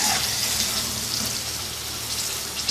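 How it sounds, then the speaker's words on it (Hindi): Chicken pieces frying in hot oil until golden and crispy, a steady, dense sizzle and bubbling hiss that stays close and loud throughout with no voices. "नाइस गोल्डन कलर में ये फ्राई हो गया चिकन"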